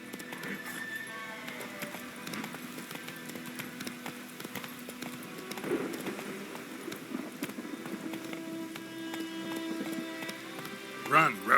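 Hooves of a horse in The Witcher 3 clopping in a fast, steady rhythm under game ambience, moderately close, with a voice speaking briefly.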